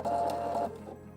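A home sewing machine stitching a short line of a handmade gift, a brief close mechanical whir that fades out after about a second.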